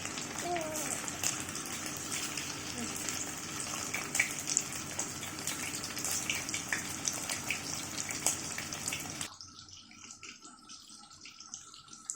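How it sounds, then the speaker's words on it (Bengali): Marinated chicken frying in refined oil in a wok: loud, crackling, constant sizzle for about nine seconds, then it drops abruptly to a faint low background. "এবার চিকেনগুলো ভালো করে ভেজে নিচ্ছি"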